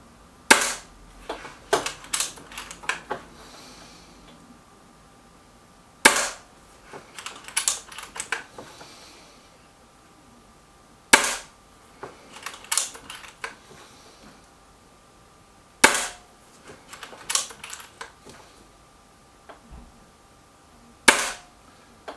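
A Stoeger XM1 Scout air rifle fires pellets at a target in four sharp shots, each roughly five seconds apart and each followed by small clicks and handling noises, with quiet gaps in between and no talking.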